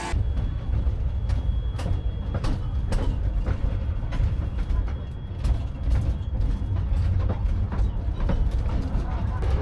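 Miniature railway train running along the North Bay line at Scarborough, a steady low rumble with rhythmic clicking wheel beats, heard from on board, with a voice talking over it.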